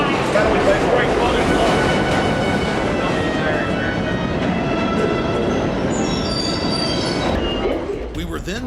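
A New York subway train runs loud and steady through a station, with rumbling wheels and high metallic squeal, and voices faintly mixed beneath the din.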